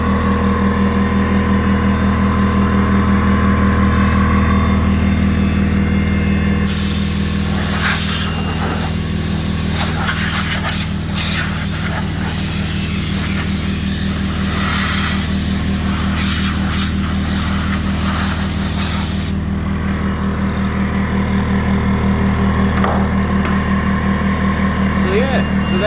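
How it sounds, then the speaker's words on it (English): A Dewalt DCP10QTC 1100 W 240 V portable air compressor runs steadily with a loud, even motor drone and pulsing hum, joined partway through by a long hiss of air before the hum continues alone. "So there we go. Dewalt portable compressor."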